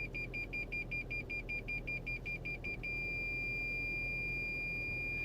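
Parking sensor in a 2023 Toyota RAV4 Limited Hybrid beeping near another car, a rapid series of short electronic beeps that merge into one steady continuous tone as the gap closes, heard alone inside the cabin.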